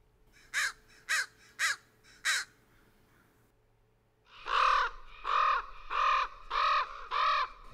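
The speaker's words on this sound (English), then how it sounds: "That's a common raven." A common raven gives a series of deep, croaking caws, four sharp calls followed after a pause by five louder, longer ones, close and clear with no talking.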